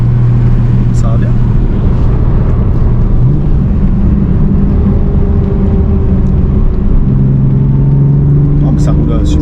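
A 1981 BMW E21 323i in Alpina style drives along, its engine a loud low drone that shifts pitch as it changes speed, with people talking inside the car over it.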